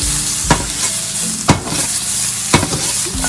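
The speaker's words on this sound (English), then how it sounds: "Add a little bit of olive oil to this. There you go. Get this nice and sauteed up." Food sautés in olive oil in a pan, a continuous close sizzle broken by three sharp clanks or scrapes of stirring at roughly one-second intervals, with no talk.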